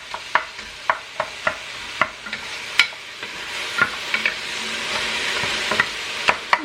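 Food sautéing in a pan at home, with a continuous close sizzle punctuated by frequent sharp taps and scrapes of a spatula at an uneven rhythm, no voices.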